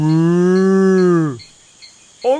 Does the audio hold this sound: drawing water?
no